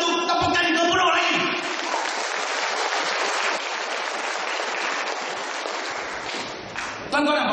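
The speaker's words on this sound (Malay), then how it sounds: "Bagi satu tepukan gemuruh lagi" Thunderous applause fills a crowd at a political rally in Sekinchan, Selangor, steady and loud for several seconds with bursts of cheering, fading briefly before a final swell.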